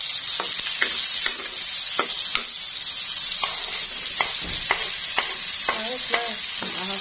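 Garlic and then onion sautéing in a pan for a Filipino mung bean dish with vegetables and meat: steady close sizzle of frying with repeated stirring scrapes of a utensil against the pan, no talk.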